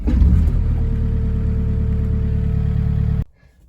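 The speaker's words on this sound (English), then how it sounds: "These are diesel engines, so you want to let it preheat, and then you'll crank it up." A mini excavator's diesel engine runs at a steady, loud idle after starting, with a low droning rumble that cuts off abruptly near the end. No cranking is evident.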